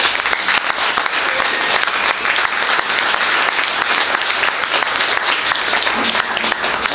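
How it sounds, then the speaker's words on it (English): A small audience at Malvern Books, a bookstore hosting a poetry evening, claps steadily and densely throughout, close and unbroken, with no voices on top. "So I think we ought to start with applause for Malvern."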